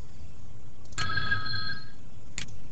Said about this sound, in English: And this chart is going to be ringing